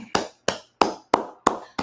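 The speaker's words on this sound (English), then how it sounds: "Let's go ahead and clap it up." Several class participants clap together in a steady rhythm, six sharp, even claps spaced about a third of a second apart, close and fairly loud.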